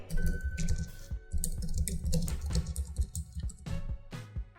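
Close computer keyboard typing fills the moment, a fast, dense patter of key clicks with a couple of brief pauses, loud and unaccompanied by any voice.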